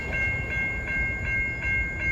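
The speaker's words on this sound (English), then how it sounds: "approaching at 5:23 is the next Port Jervis train." NJ Transit Port Jervis commuter train approaching Ramsey station on a hot evening rush hour, a steady low rumble with a sustained high tone and faint rhythmic clicks repeating about twice a second.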